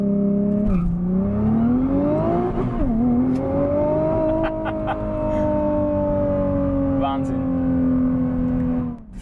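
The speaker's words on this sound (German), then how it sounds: "Ich teste jetzt mal die Launch Control, das muss ich mal demonstrieren." A Nissan GT-R launches with launch control, its engine revving loudly and climbing through a gear change as it accelerates hard, heard from inside the car with a brief voice over the roar.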